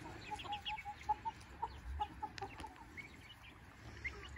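Chickens clucking softly at a camp, a series of faint, short rhythmic clucks heard at some distance over low background noise.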